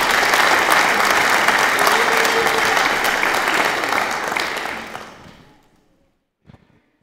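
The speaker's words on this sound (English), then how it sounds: "Give them a round of applause." A church congregation claps loudly and continuously, the applause thinning and fading out after about five seconds, followed by near silence and a brief faint knock or rustle.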